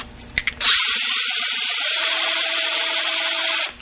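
A power drill spins a Drill N' Tap bit to cut threads in metal, a loud, steady high whine that starts abruptly after a few clicks and runs alone for about three seconds before stopping.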